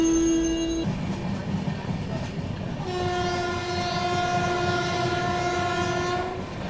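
The Varanasi–Pune Gyan Ganga Express rolls along with steady rail rumble, a brief horn blast at the start and then a longer, loud sustained horn sounding over the running noise.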